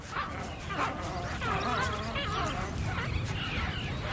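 African wild dogs in a pack yip, whimper and bark in a dense, overlapping chorus that runs nonstop at moderate volume, with a narrator's voice mixed through it.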